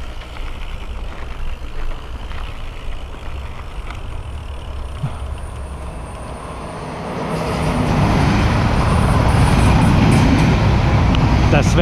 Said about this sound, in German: Das wäre unser Zug gewesen.